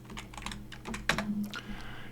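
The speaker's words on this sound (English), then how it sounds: "I will type in my password" A password typed on a computer keyboard during Windows Server 2022 sign-in: a quick run of about a dozen light, close key taps with one louder strike, no speech.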